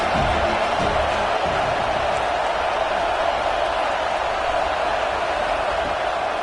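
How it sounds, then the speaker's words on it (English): Broad, steady roar of a football stadium crowd, loud and unbroken throughout with no distinct pauses, swelling as fans try to disrupt the visiting offense. "This crowd trying to make life miserable for this offense."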